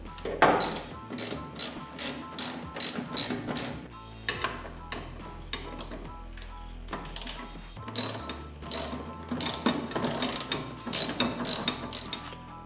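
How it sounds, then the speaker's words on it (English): Ratchet loosening bolts on a PT Cruiser during a cabin air filter replacement, quick rhythmic clicking bursts with brief pauses, close and moderately quiet. "Alright, got the bolts loosened up."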